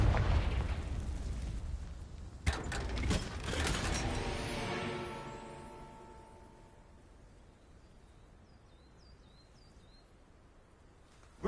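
A Confringo fire spell explodes in Hogwarts Legacy with a loud burst and rolling boom that fades gradually over several seconds into quiet ambience with faint bird chirps.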